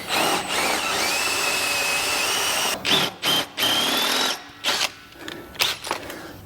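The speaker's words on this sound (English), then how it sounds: "try and drill the head off a little bit more." A power drill bores into the head of a pin on a 1936 Ford rear end being fitted to a 1932 Ford roadster frame, a loud steady whine in long bursts, then shorter stop-start pulses as the trigger is released and squeezed again.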